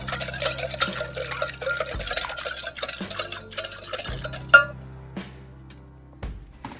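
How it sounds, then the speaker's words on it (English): A spoon stirs sugar into a bread-dough mixture in a bowl, giving scattered light clinks and scrapes over steady background music. "I'm going to mix this up a little bit, give it a stir, and set it to the side."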